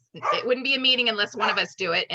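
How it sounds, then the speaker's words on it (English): A dog barks in the background of a virtual community commission meeting, the barks half-buried under continuous close speech from a participant. "please excuse the dog in the background"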